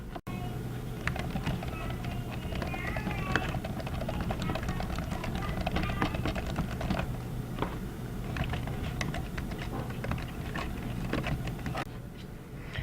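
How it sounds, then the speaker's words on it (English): Rapid, irregular clacking of fingers typing on a computer keyboard, close and steady for about twelve seconds over a low room hum, with no talking. "it was me typing on my keyboard"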